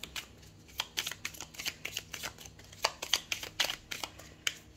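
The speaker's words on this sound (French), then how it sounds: "Vous pouvez avancer la vidéo si vous voulez pendant que je bats les cartes" Tarot cards are shuffled over and over in quick riffling bursts, a crisp papery flutter repeating at a steady rhythm close by, with no speech.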